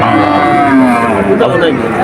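A cow moos loudly and long amid a noisy crowd of chattering people at Betaga cattle market, the low call drawn out and close.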